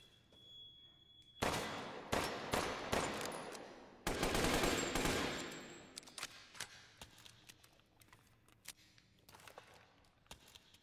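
Rapid bursts of gunfire crackle in quick succession in Resident Evil Village, with a dense volley in the middle and scattered single shots trailing off, sounding like game weapons.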